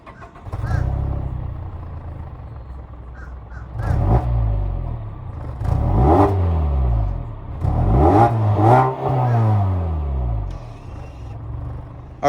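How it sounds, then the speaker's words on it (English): A 2018 Mazda 6 2.5-liter four-cylinder engine cranks and catches, then revs up several times in rising and falling sweeps before settling back to a steady idle, loud and close. "let's start this Mazda 6 up and hear how she sounds"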